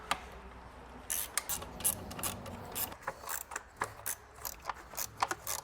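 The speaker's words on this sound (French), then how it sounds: "Petit cliquet, douille de 7." A small ratchet with a 7 mm socket works on a car's upper timing cover, a series of close, crisp clicking bursts separated by short pauses, with no talk.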